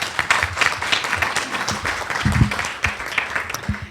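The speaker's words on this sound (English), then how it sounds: "Please give her a round of applause as she comes." Applause from a crowd at a child abuse prevention and awareness event fills the room, steady clapping throughout with a few louder thumps near the middle.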